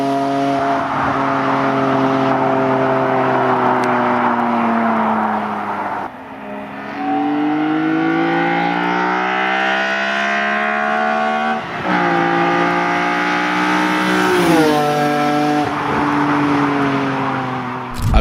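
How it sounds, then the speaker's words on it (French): A BMW M3 E46 CSL engine with a 8000 rpm redline roars close and loud, its pitch climbing through repeated rising pulls with brief drops between gear changes, a metallic intake howl building toward the top. "le moteur aspire l'air avec un grognement métallique strident qui se transforme en un hurlement rageur à l'approche de la zone rouge"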